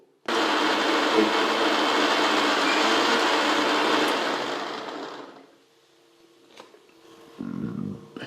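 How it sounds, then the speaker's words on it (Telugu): A mixer grinder whirs loudly as it blends juice with coconut milk, running steadily for several seconds before spinning down to quiet, followed by a brief clatter. "మిక్సీ చేసి పట్టండి, మెత్తగా జ్యూస్ చేయండి."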